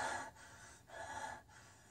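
Heavy breathing, close and quiet, with three long rasping breaths in a slow, even rhythm and short silent gaps between them.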